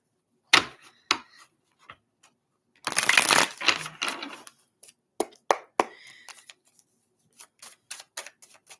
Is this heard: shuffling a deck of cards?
yes